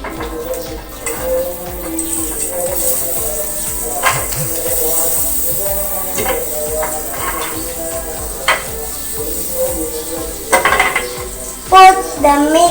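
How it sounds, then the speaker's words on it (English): Butter going into a heated pan for cooking, with a steady sizzle and repeated clinks and scrapes of a utensil against the pan, close and fairly loud throughout. "heat up the pan and put the butter"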